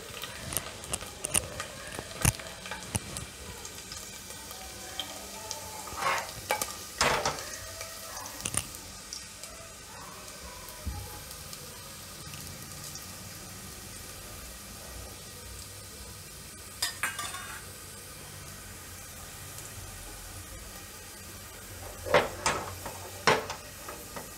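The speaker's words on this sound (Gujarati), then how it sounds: "તેલ આપણું ગરમ થઈ ગયું છે હવે આપણે એમાં પહેલાં લસણ નાખીશું લસણ થોડું લાલ થવા દઈશું" Garlic frying in hot oil for a Gujarati cluster-bean and potato curry gives a low continuous sizzle, broken by sharp utensil clacks and scrapes in bursts at the start, middle and end.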